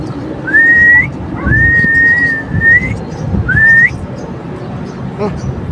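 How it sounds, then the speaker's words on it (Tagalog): Three rising, drawn-out human whistles calling a pigeon, the middle one longest, sounding out over a noisy outdoor background. "Kasi yung sipol natin mahina"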